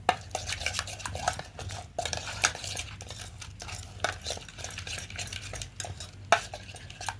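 Paneer curry is mixed in a pan, with a spoon scraping and knocking against the metal in irregular strokes over a low background hum, close and moderately loud.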